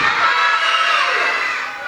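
A group of children shouting together in unison at a Muslim children's religious class, a loud sustained burst of young voices filling the room throughout, with no single speaker standing out.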